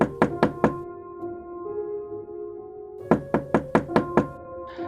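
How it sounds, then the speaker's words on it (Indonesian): Knocking on a living-room door, heard as a quick burst of four firm raps, a pause with a low hum, then a longer run of about six more knocks, close and distinct. "tiba-tiba ada seseorang yang mengetuk pintu ruang tamu"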